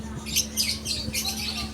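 Many birds squawking and chirping together in a lively, overlapping chorus of shrill calls, close and continuous over a low steady hum.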